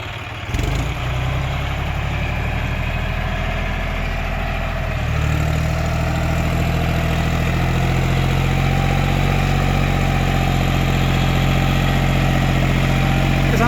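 A Mahindra or John Deere 4WD tractor engine of about 50 hp runs continuously with tires slipping, a steady low idling drone that rises in load partway through and then holds, loud and close, with no talk.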